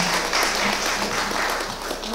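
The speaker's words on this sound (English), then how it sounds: "give them all a round of applause again" A crowd at a 2012 conference panel workshop applauds the presenters with moderate, steady clapping that holds through the moment and sounds a little distant in the hall.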